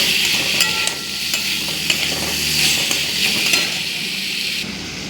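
Chopped pointed gourd and carrot stir-fried in a pan with salt, a bright continuous sizzle with spatula scrapes and clinks against the pan, close and fairly loud with no voices.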